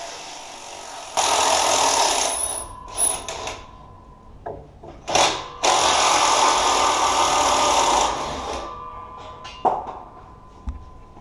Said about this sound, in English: we're trying to remove the downpipe from the exhaust using an impact wrench to break loose the clamp